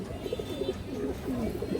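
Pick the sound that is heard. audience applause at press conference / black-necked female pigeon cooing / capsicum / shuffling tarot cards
black-necked female pigeon cooing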